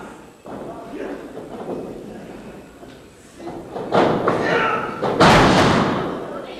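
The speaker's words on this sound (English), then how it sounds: "Back elbow, down goes Bobby Boat." Heavy thuds of a wrestler slamming onto the ring mat after a back elbow at a pro wrestling show, loud and close, under excited commentary and crowd noise.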